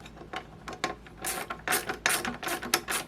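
A ratchet with a deep socket tightens lock nuts on a MaxiClimber Classic roller. Quick bursts of sharp ratcheting clicks come in uneven spurts, close to the listener, and grow denser and louder toward the end.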